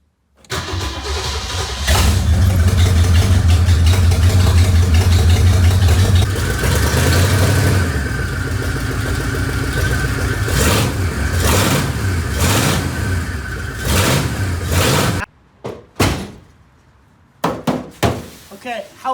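A Ford Torino barn find, parked for 20 years, cranks and fires up, its engine rumbling loudly with uneven revving for several seconds before cutting out, followed by a few short bursts of cranking or revving.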